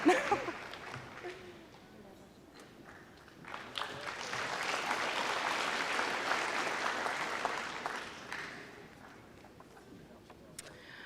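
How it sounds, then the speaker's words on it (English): High school senior honors audience applauding a scholarship student, a swell of clapping and crowd noise that builds in the middle and fades, with voices mixed in throughout. "We can give all our applause to Devin"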